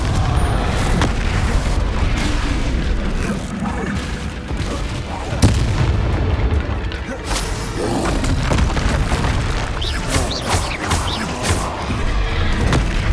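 Repeated Confringo explosion spells in Hogwarts Legacy combat, loud booming blasts and crashing impacts in rapid succession, layered over a continuous dense battle din.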